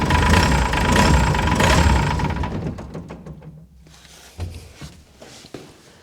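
A Unimog 416 engine runs loud and close with a rough, steady rumble for about two seconds, then fades away to quiet, leaving a few faint knocks and clunks.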